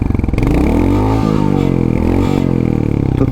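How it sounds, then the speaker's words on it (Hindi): A Hunter 350 motorcycle engine revs up hard, its pitch climbing and falling in a loud, steady roar with no talking over it. "अगर मैं इसको रेप करता हूँ"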